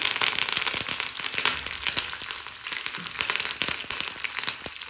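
Dry red chillies, garlic and curry leaves sizzle in hot oil for a tempering, giving a dense, continuous crackle and spitting pops that stay loud and close throughout.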